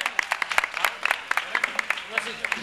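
Audience applause at a carnival proclamation and carnival queen crowning in Arcos de la Frontera, heard as a steady wash of many hands clapping with sharp individual claps standing out, fairly close and lively throughout.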